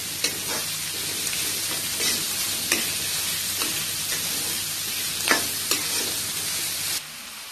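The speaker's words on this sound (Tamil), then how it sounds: "போட்டு நல்லா வதக்கி விடுங்க." Carrots and cut beans sauté in a hot pan with a steady sizzle, broken by repeated scraping stirs of a spatula at close range, for a Tamil-style pineapple fried rice; the sizzle stops abruptly near the end.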